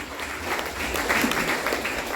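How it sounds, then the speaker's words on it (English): An audience claps throughout at a secondary school graduation ceremony, a steady, dense round of applause filling the hall at moderate loudness. "Give them a round of applause once again."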